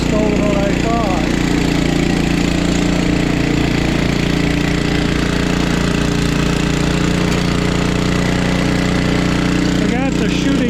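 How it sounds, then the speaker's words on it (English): A gas snow blower runs steadily while clearing snow outdoors, a loud continuous engine drone close by that holds through the whole stretch with no talking. "I did decide to run the snow blower because there's more snow than what I thought."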